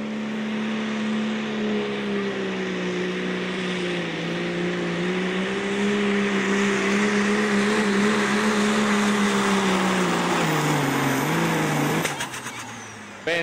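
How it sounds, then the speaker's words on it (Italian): Engine of an 80-60 tractor roaring at a tractor pull, a loud sustained droning rev holding steady for many seconds, then dropping off abruptly near the end. "Il motore su di giri, si sente rombare l'80-60 di Charlie, che non delude mai."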